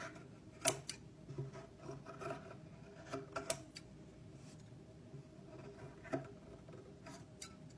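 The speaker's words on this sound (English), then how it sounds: "just lightly going along the edge, taking off that excess fabric" Wooden drawer edge being lightly filed to take off excess decoupage fabric, giving quiet, scattered scraping and rubbing strokes with a few sharper ticks, close and soft, with no talking.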